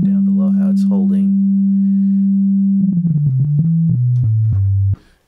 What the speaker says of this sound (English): Pretty resonant instrument being a pure sine wave.